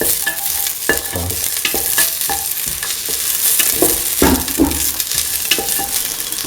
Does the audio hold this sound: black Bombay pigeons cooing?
no